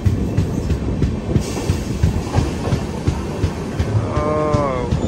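The Visakha Express rolls into Palasa station with steady rumbling and clattering of wheels on track, close and continuous, and a short tonal horn-like note near the end; no one speaks.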